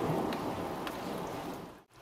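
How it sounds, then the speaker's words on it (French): A thunderstorm with steady heavy rain, a dense broadband wash loud and close, with low rumbling thunder underneath and no talking. "Il y a de l'orage."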